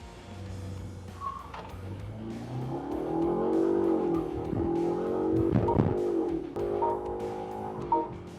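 BMW 530Li long-wheelbase sedan accelerating hard in manual sport mode with sport traction control, heard from inside as a steady engine drone that climbs in pitch across upshifts at high speed.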